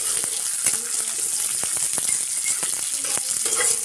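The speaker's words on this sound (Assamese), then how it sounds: "ইয়াত অকণমান ঘি দি লৈছোঁ আৰু কাজু কিচমিচখিনি অকণমান, এইখিনি অলপমান মানে ভাজি লওঁ" Cashews and raisins fry in ghee with a steady, bright sizzle, broken by quick stirring clicks and small taps from the pan, close and continuous throughout.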